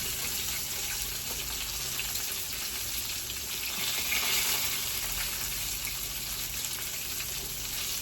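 Food frying in grease on a country kitchen stove, a steady close sizzle and crackle that runs unbroken the whole time with no talking.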